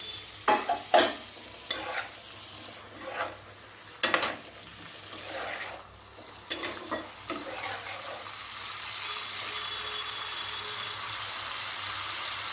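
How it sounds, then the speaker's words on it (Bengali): Fried ridge gourd is sautéed with spices, pointed gourd and potato in a pan: a few sharp spatula scrapes and clanks at the start, then a soft, steady sizzle that carries on alone. "ঝিঙ্গেটার সঙ্গে মশলাটাকে একটু আমি কষিয়ে নেবো"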